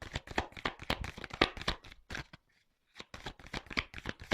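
Tarot cards being shuffled close by, a dense run of quick riffling flicks and slaps that stops briefly partway through, then resumes in a steady rapid patter.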